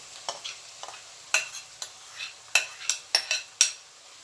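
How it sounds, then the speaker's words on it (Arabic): Minced meat with onions and spices stirred in a frying pan: a gentle sizzle underneath with scattered scraping clinks of the spoon against the pan, irregular and close. "واقلبهم مع بعض كويس لحد ما اللحمة ان هي تتعصج وتستوي"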